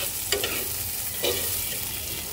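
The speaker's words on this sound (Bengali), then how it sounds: "তো চলো পেঁয়াজ রসুনটা একটু সুন্দর করে ভেজে নেই।" Onion and garlic fry in a hot pan with a continuous close sizzle, broken by two short scraping stirs of a utensil and no voices.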